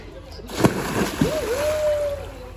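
Splash of a person jumping into water at an outdoor picnic spot, a short sloshing impact followed by a lingering wash of water, with a voice calling out nearby.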